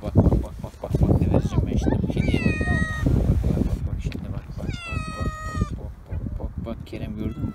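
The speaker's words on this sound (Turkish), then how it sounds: "Kediler geldi." Hungry cats meow loudly in two clear, drawn-out calls over steady background chatter and rustling, with people talking nearby throughout.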